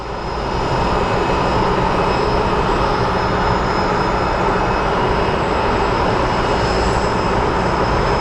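An Airbus A220 jet at Phoenix Sky Harbor Airport gives off a loud, continuous engine roar that swells in over the first second and then holds steady with a faint high whine.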